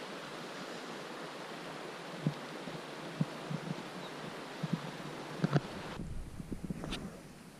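Wind gusting across a high-altitude bivouac in the Pamir mountains and carrying dust: a steady broadband roar with scattered low thumps and a strong buffeting surge against the microphone near the end.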